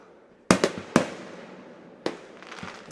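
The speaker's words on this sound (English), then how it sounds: "it's hard to play baseball during a fireworks show" Fireworks bursting during a baseball game: several sharp, loud explosive bangs at irregular intervals, each followed by a crackling, rumbling decay, with no talk over them.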